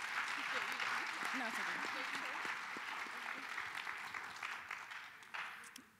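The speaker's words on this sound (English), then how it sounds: "why don't we give them a round of applause too?" An audience applauds student videographers at a school career and technical education event, steady clapping with a voice speaking over it, the applause thinning toward the end.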